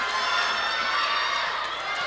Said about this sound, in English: the fans are really getting into this